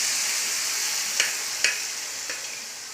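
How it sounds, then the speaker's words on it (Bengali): Boiled potatoes and peas are stirred into frying masala for ghugni, with a steady loud sizzle throughout and a few soft scraping knocks of the spoon against the pan. "এবার কিন্তু আমরা আলু কলাইগুলো সিদ্ধ কিন্তু দিয়ে দিয়েছি।"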